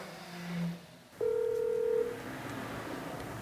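Two electronic telephone dialing tones, a short lower beep followed by a longer steady higher tone, from a phone call placed to a hospital in Busan, heard over faint background hiss.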